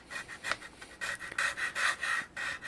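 A flat file rasps back and forth against a plastic 30-round ProMag magazine for an SKS rifle, in close, steady, repeated strokes with no talking.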